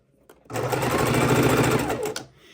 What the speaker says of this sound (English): you just have to make sure your seams lay flat when you sew over them.